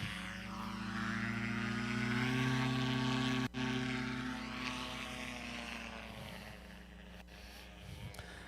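An aerobatic airplane takes off at the Sun 'n Fun air show in 2025, its steady propeller-engine drone loud and sustained, shifting pitch as it climbs away.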